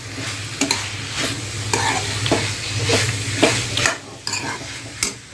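Chopped coriander being stirred into a kantola (spiny gourd) curry frying in a pan, with repeated scraping spoon strokes over a steady sizzle, close and fairly loud.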